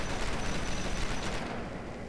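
A turret gun firing continuously in the Star Forge Fort Defense game, giving a dense, loud, unbroken roar of rapid shots that eases slightly toward the end, with no talking.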